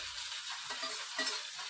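Tomatoes dropped into a hot pan of oil with green chilies sizzle and fry steadily, a soft close hiss with faint stirring scrapes and no voices.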